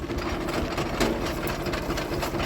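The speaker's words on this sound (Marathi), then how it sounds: "ट्रॅक्टर सुरू झालंय" A tractor engine, freshly started beside a borewell during submersible pump fitting, runs with a steady loud idling chug and a rough mechanical rattle throughout, with no voices.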